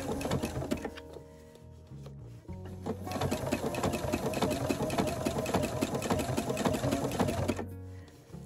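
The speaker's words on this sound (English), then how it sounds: "my mock applique stitch, is stitching on the quilt and just nipping into the binding." A sewing machine stitches a mock applique stitch along a quilt's binding, a fast mechanical chatter that runs steadily for most of the stretch, pauses briefly near the start and stops at the end, close and clear.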